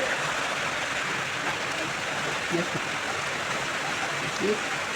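Water runs steadily from a kitchen tap while dishes are washed during cooking, a loud broadband rush that fills the whole stretch, with faint clinks and a brief low voice buried beneath.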